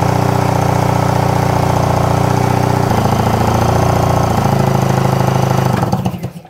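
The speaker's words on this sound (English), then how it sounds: "I'm holding that throttle wide open and cranking it." A Yamaha engine cranks on its starter with the throttle held wide open, a loud, continuous mechanical churning with a steady repetitive rhythm that slows and stops near the end.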